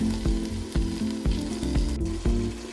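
Prawns with turmeric sautéing in a pan for prawn biryani, a loud continuous sizzle broken by regular stirring knocks about every half second.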